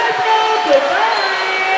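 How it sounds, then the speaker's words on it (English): Basketball crowd at an NBL1 men's finals game between Frankston and Nunawading, a steady roar of cheering and whooping that fills the arena, with a commentator talking over it. "This crowd is going nuts."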